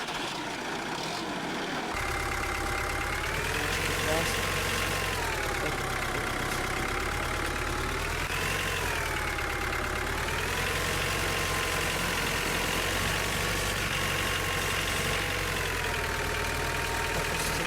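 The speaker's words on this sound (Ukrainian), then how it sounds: "давайте візьмемо нашого трактора, МТЗ, нехай він туди його культивірує" An MTZ tractor engine idles in the Farming Simulator 2015 game: a steady, loud, continuous mid-pitched drone that starts after a brief quiet moment and wavers slightly in pitch throughout.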